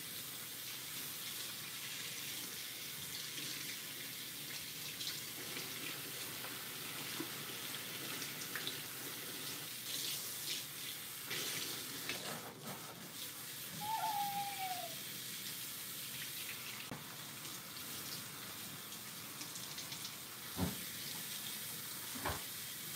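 Water runs steadily from a handheld shower sprayer while a woman's hair is washed, a continuous close hiss and splash with faint handling knocks and no talk.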